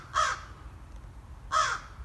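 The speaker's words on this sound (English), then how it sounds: "You're a good crow." A crow caws twice, slow harsh calls about a second and a half apart, close and clear over a quiet low rumble, during wildlife rehabilitation care.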